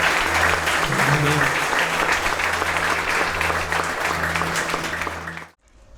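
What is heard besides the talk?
congregation applause in church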